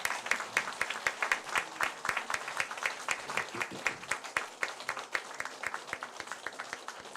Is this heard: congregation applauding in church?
yes